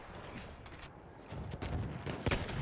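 Martini-Henry rifle shots in Battlefield 1 crack as a few sharp reports, the last one loudest, over rumbling battlefield noise.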